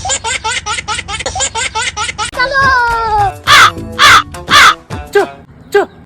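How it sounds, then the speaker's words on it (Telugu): A rapid burst of harsh crow caws, followed by a voice and more loud, drawn-out caws close by. "ఎదవ కాకులు"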